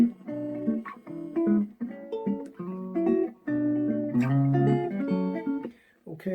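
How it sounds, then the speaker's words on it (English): A guitar is picked through a small homemade cigar box amplifier, producing a quiet, slightly gritty run of single notes and short chords in an uneven melodic phrase. "That's the sound of this sweet little amplifier there."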